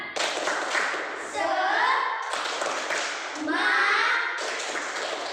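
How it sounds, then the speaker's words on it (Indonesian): Schoolchildren in an Indonesian classroom perform a rhythmic clapping cheer, bursts of patterned claps near and loud alternating with children chanting together in unison. "Terlebih dahulu kita membuat yel-yel tepuk semangat."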